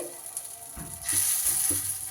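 Pumpkin fritters dropped into hot rice bran oil, with a steady sizzle that swells louder partway through as batter hits the pan, plus a few soft clinks of a utensil; no talking.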